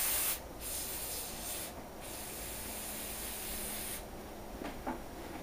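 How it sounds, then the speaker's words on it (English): Aerosol cleaner hisses in long continuous bursts onto a two-stroke carburetor, close and steady, broken by brief pauses between sprays. "But we're going to spray that off now."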